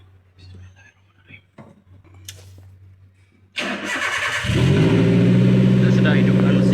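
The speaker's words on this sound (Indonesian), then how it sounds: "Hidupkan mesin terlebih dahulu." After some quiet whispering and shuffling, a car engine cranks and catches, then settles into a steady, loud idle rumble.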